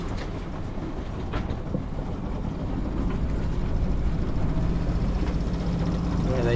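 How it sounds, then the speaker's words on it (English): A sailboat's engine runs steadily on a crossing from Bimini toward New Providence in the Bahamas, a continuous low rumble with broadband wash, staying constant and slightly building across the stretch. "Okay, engine started."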